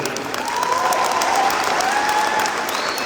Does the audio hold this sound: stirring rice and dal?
no